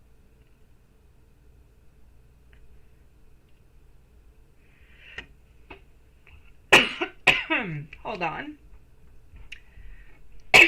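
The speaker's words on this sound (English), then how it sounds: "I'm coughing on I don't know what because I didn't eat anything or I didn't drink anything" A person on a live tarot-reading stream coughs several times in a close, harsh burst after a quiet stretch, with a few words spoken just before.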